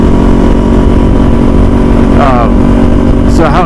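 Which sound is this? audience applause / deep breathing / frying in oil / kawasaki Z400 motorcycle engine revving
kawasaki Z400 motorcycle engine revving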